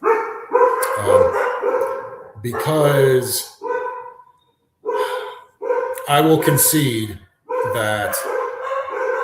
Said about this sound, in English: sorry if you hear all the dogs barking